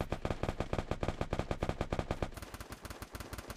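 Rapid bursts of Free Fire gunfire, steady automatic shots in quick rhythm, loud and close, shifting to a denser, crackling pattern near the end.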